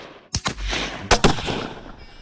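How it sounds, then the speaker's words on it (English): Two loud, close gunshots from a hunting gun fired at wild hogs crack about a second apart, each with a sharp attack and a short, rolling echo. "Oh, your gun is loud, Josh."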